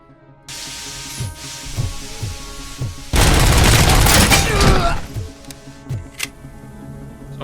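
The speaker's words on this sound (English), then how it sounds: "Assault rifle, RBS, MK2." Assault rifle RBS MK2 in the Robocop video game: a long, loud burst of automatic fire in the middle, with single booming shots and game effects before and after.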